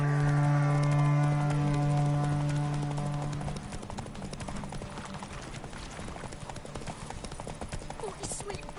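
Hooves pound in a quick, steady rhythm as Geralt's horse Roach gallops in a race in The Witcher 3: Wild Hunt, first under tonal music and voices, then alone and fairly faint.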